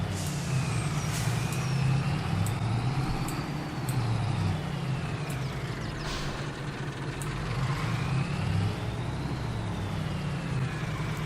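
Truck in Farming Simulator 22 rumbling steadily through a tight turn, a low engine drone with faint rising and falling whine, continuous and close with no talk.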